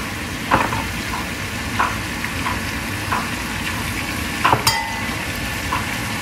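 Onions sizzling with browned meat in a pot for Uzbek pilaf, a steady frying crackle broken by a few sharp metal scrapes and clinks of a utensil against the pan; no talking.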